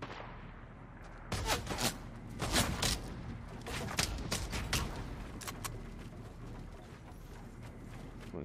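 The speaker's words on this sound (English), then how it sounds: "Someone's shooting me." Gunfire in a multiplayer shooter video game: bursts of rapid shots and several single loud cracks, fairly close, spread through the scene with game noise between.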